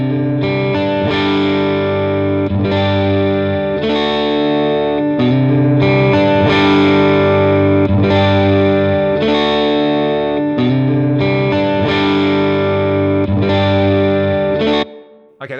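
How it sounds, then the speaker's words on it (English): Loud electric guitar chords ring through two blended amp models on an Axe-Fx III, one a Deluxe Verb vibrato model, with a driven, wavering chorus-like shimmer and reverb, strummed in a steady repeating pattern before stopping abruptly. "let's just blend in some of that Deluxe Verb vibrato model"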